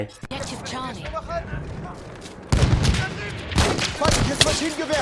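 Shotgun fire in Battlefield 1 lands as a few sharp, loud blasts amid ongoing combat noise, with someone speaking continuously over the shots.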